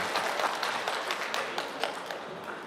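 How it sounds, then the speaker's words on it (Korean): A small audience at a student busking event claps for a couple of seconds, a modest, somewhat uneven patter of hands that stays fairly quiet. "사라 씨에게 박수."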